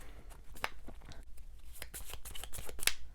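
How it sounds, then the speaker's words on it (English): Quiet, rapid riffling and soft slapping of cards in KMC Hyper Matte sleeves being shuffled by hand, in short irregular bursts with a faint papery texture. "So the hand shuffle for these sleeves is pretty nice."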